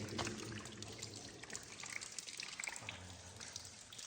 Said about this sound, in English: You can just see here some sort of drainage where the water's leaking.